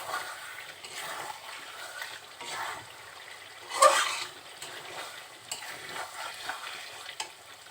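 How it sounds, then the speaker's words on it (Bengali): Chicken kala bhuna being stirred in a pot with the lid lifted, a soft scraping and sizzling texture with a brief louder clatter midway, faint and close with no talk. "আবার ঢাকনা উঁচু করে নেড়ে চেড়ে দিচ্ছি।"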